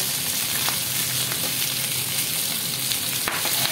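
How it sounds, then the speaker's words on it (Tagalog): Salmon head browning in a hot pan, a dense, even crackling sizzle running the whole time, close and fairly loud, with a sharp pop near the end. "Mag-golden brown na ang ating ulo ng salmon."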